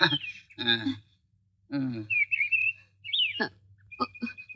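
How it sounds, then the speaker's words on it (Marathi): A sparrow gives a few short, high chirps and thin whistled tweets in the gaps between voices talking nearby. "चिमणी पाखरू"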